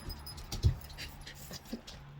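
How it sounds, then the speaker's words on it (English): A small dog gives a soft, brief whimper indoors. One short yelp stands out, followed by a fainter second sound over a quiet background hum. "Little dog."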